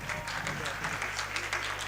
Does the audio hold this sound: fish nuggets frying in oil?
no